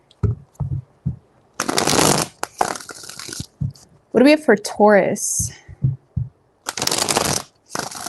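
Bursts of tarot card shuffling, a few brisk riffles in a row, alternating with a voice talking close by.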